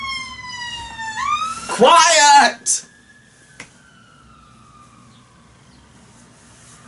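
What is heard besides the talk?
ambulance siren passing outside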